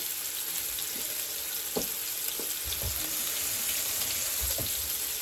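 Two pieces of fish fry in a pan with a steady, soft hiss of oil and a few faint clinks and taps from cookware. It stays quiet throughout, with no voices.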